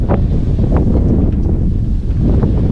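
Strong gusting wind roaring on a farm during a wheat harvest, buffeting the microphone with loud, continuous low rumble and occasional sharper gust bursts, with no talk.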